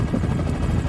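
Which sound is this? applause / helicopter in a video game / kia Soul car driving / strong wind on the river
helicopter in a video game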